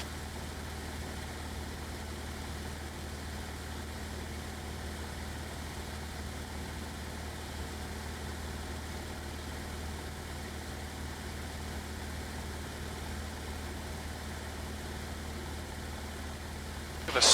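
A small airplane's engine drones steadily in flight, a constant low hum with a faint tonal whine that stays level throughout, heard from inside the cabin with no talking.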